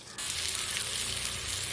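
Ground paste of roasted coriander and chilli hitting hot oil in a pan for a Kerala fish curry; a sudden bright sizzle bursts in after a quiet moment and holds steady and close.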